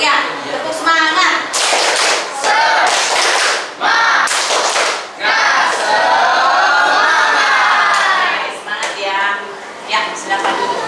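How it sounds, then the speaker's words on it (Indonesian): A classroom group of students and teacher performs a rhythmic spirit clap in unison, loud sharp bursts of clapping in patterned beats with short pauses, alongside chanting voices. "Lihatnya tepuk semangat"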